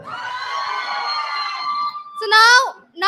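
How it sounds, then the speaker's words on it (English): Conference audience cheering loudly, a sustained crowd roar with high shouts for about two seconds, followed by a sharp burst of screaming voices near the end. "Guys, cheer louder."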